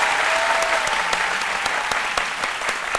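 A studio audience applauds warmly, a dense, steady wash of clapping that holds at an even level throughout.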